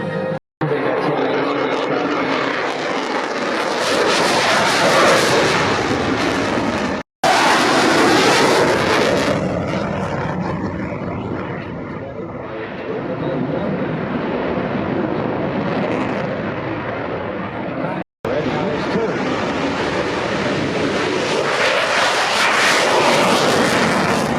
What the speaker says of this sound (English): you'll hear that wonderful pair of the Rolls-Royce Merlin engines in the Mustang